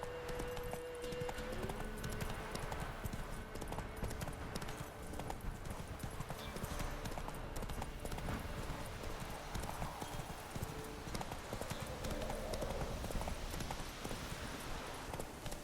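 Hooves of the horse Roach galloping in The Witcher 3, a fast steady clip-clop rhythm running throughout, with a brief whinny and faint game ambience behind.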